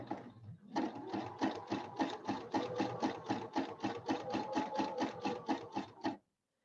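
A sewing machine stitches fabric for a throw pillow, a quiet close rapid rhythmic whir of needle strokes, around three per second, running evenly for about five seconds before stopping.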